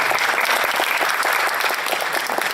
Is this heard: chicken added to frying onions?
no